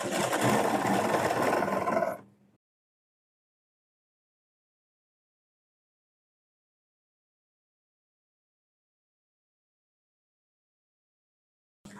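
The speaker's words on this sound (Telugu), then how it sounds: "ఈ ఫోర్ లేయర్స్ని ఇలా ఫోల్డింగ్ చేసుకుని స్టిచ్ చేసుకుందాం" A sewing machine stitches four folded layers of fabric for semi patiala pants, whirring steadily and loudly for about two seconds before stopping into silence, then briefly starting again at the very end.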